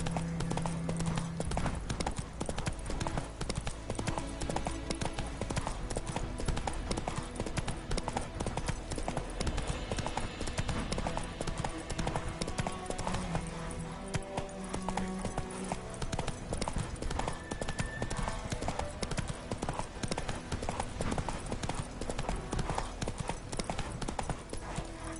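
A horse gallops steadily in a PS4 video game, its rapid hoofbeats drumming without a break for the whole stretch, with a brief whinny mixed in.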